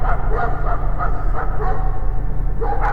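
Dogs bark in quick, repeated yaps over a constant low hum, the barking fairly close and steady throughout.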